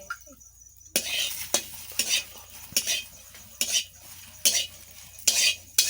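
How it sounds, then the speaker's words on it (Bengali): Cashew nuts fry in a pan while a utensil stirs them, scraping strokes coming in a steady rhythm over a soft sizzle, close and fairly loud. "এখন আমি ভেজে নিচ্ছি কাজু বাদাম।"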